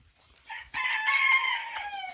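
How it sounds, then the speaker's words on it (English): A rooster crows loudly and close in a spring garden, one long drawn-out call following a brief softer cluck. "Yes, chickens."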